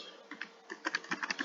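Keys clacking on a computer keyboard as a command is entered, a quick run of crisp close taps that starts sparse and then speeds into a steady burst, with no voices.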